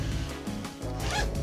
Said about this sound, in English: Everything zips up pretty cleanly.